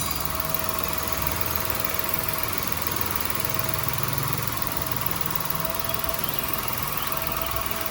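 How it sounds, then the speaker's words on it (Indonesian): A three-cylinder car engine idling steadily close by, a constant low, slightly uneven hum with mild vibration and no talking. "ini mesin kas 3 silinder"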